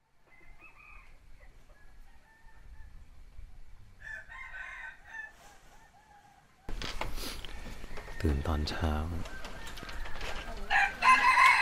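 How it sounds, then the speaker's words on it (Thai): Roosters crow in the early morning in the Huai Kup Kap mountain village near Chiang Mai, at first faint and distant over quiet, then loud, close, repeated cock-a-doodle-doos mixed with clucking while someone talks. "ไก่ร้องระงม"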